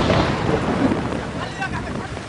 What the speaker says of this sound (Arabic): عندما تضرب العاصفة ستكون قصيرة ولكن عنيفة.